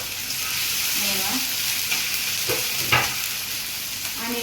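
Crushed ginger, garlic and green chili hit hot oil in a pan, giving a steady loud sizzle with a few soft stirring clatters in the middle.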